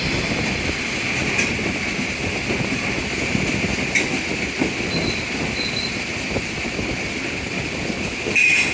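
A train rolls through Raiwind railway station at night, a steady broadband rumble of wheels and carriages with faint high squeals and clicks, continuous and fairly close throughout with no voices.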